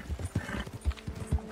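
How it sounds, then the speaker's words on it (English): Horse hooves clip-clopping in an uneven, repeated rhythm, joined by a brief whinny, all close and fairly loud, in the Red Dead Online video game. "I have to feed my horse"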